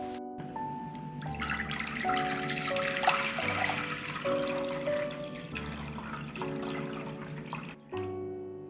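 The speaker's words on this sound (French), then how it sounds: "On commence par rincer le basilic et le persil à l'eau claire." Running tap water pours steadily into a sink while basil and parsley are rinsed under it, a continuous close splashing rush that breaks off briefly near the end, with music playing in the background.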